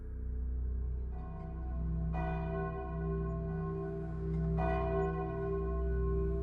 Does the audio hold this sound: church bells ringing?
yes